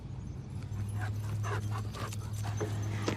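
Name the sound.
dogs panting while wrestling outside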